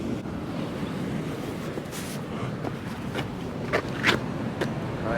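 Sea waves break against coastal rocks on a beach as the tide drops, a steady rumbling surf with wind buffeting the microphone and a few brighter splashes near the end.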